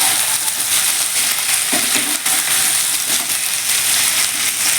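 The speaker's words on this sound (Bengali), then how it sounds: "আলু পটলটা ভাজা ভাজা হয়ে গেছে" Potatoes and pointed gourd fry in a pan, giving a loud, steady sizzle and crackle with a few faint stirring clinks. No one speaks.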